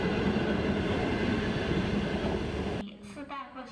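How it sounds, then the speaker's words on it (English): A Chinese sleeper train runs along the rails with a steady, dense rumble and rolling noise for most of the stretch, then it cuts abruptly to a quieter scene. "The sleeper train."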